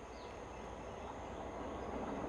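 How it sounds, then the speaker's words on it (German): A train runs through a level crossing in Sri Lanka without stopping, a steady, close rumble of wheels and carriages that swells slightly over the whole stretch, with no voices. "Die Schranken haben sich geschlossen, das ist aber noch nicht mein Zug. Das ist auch ein Colombo-Zug."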